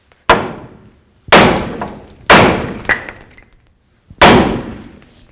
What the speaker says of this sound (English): I'm going to take my little hammer here. I'm going to give this a couple bonks.